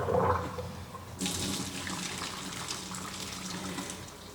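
Hot water from a pot of cooked pasta pours into a kitchen sink as a steady, close rushing splash that starts abruptly and continues alone.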